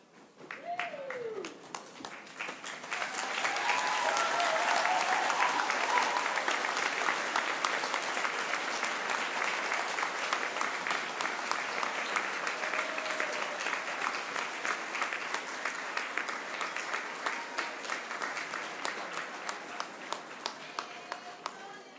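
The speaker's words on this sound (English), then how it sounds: "give them a clap as well" Sustained applause from a graduation ceremony audience of Whitireia and WelTec graduates, a broad steady wash of many hands clapping for over twenty seconds, with faint voices mixed in.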